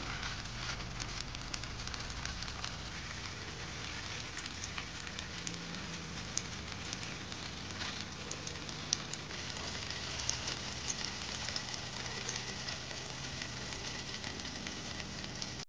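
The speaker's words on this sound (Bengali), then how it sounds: "তারপর সেটাকে ফ্রাই করতে হবে। দু পিস ভালোভাবে ভেজে নেব।" Squeezed-out rasgulla pieces fry in hot oil, giving a steady, fairly quiet sizzle and crackle that continues throughout without any voices.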